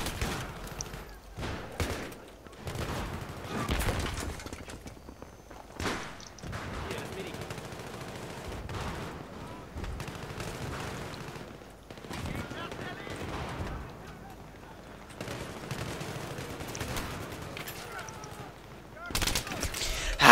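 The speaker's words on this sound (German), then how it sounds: "Ich bin noch nicht mal um die Ecke und er schießt schon auf mich." Bursts of automatic and single-shot gunfire from a Battlefield 3 match, irregular clusters of sharp cracks scattered throughout, mixed under a player's frequent agitated talking.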